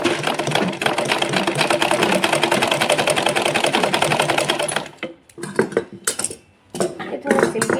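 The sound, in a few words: sewing machine stitching silky saree fabric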